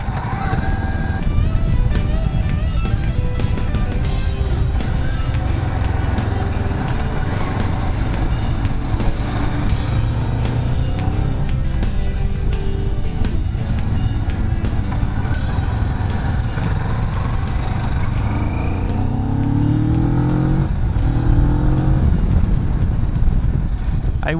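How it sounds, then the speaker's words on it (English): A Kawasaki Vulcan S motorcycle engine drones loudly and steadily while riding, its pitch rising and falling as the clutch is pulled and released through gear changes, with heavy wind rumble throughout. "Now I'm pulling the clutch, and now I'm releasing."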